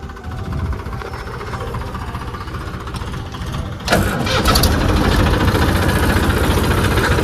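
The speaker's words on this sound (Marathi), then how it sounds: "चला निघालं ट्रॅक्टर आता" A tractor engine turns over and catches about four seconds in, then settles into a steady, loud running rumble close by.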